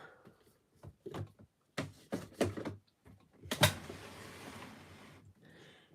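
A drawer is handled near a makeup table, giving several quick wooden knocks and bumps followed by a longer sliding scrape, close and moderately loud, with no talk over it.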